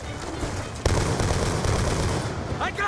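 Sustained automatic gunfire in the Call of Duty: Black Ops 2 PC campaign, a loud dense barrage with a sharp burst near the start and continuous shots through the rest, with a voice faintly mixed in.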